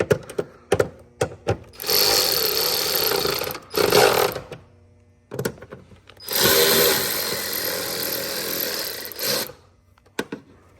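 A power tool whirs in two sustained bursts and a shorter one, driving in 10mm bolts on the coolant expansion tank of an Infiniti G37, with clicks and clanks of handling between runs and no talk.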